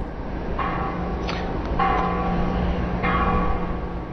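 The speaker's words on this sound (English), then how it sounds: "Bells rang at churches on the island nation just 90 miles south of Florida." Church bells ring across Cuba, steady and resonant, with several struck tones hanging over a continuous ambient hum, no voices.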